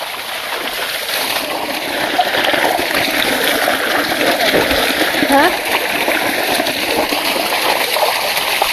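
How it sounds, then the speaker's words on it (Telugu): Steady, loud splashing and churning water from buffaloes bathing fills the whole stretch, with continuous watery turbulence and no clear pauses. "బర్రెలు అయితే చల్ల స్నానం చేస్తున్నాయి"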